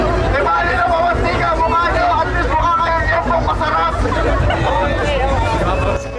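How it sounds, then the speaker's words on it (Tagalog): A dense, fast-moving crowd of people surging toward a celebrity for selfies at a world-record attempt, producing a loud, continuous babble of overlapping voices and chatter close by with steady bustle throughout. "Ito ang agos ng mga tao papunta kay Steve. Mabilis, siksikan at nakakalito."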